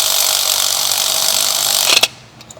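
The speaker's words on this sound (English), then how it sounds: "Then I'm gonna go ahead and use my ratchet, electric ratchet," An electric ratchet spins loudly and steadily while removing spark plugs from a 2014 Mazda CX-5, then cuts off abruptly near the end with a couple of brief clicks.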